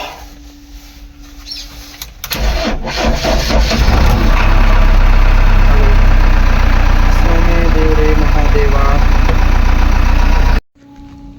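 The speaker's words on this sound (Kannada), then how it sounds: "ಗಾಡಿ ಸ್ಟಾರ್ಟ್ ಮಾಡುವ" A JCB diesel engine turns over and settles into a steady, loud idle, a low continuous rumble that runs unbroken for about eight seconds before cutting off abruptly.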